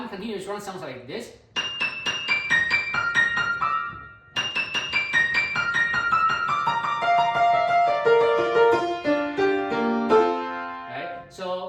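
A piano plays rapid flowing runs, cascading notes sweeping up and down in quick continuous streams with a brief pause between phrases.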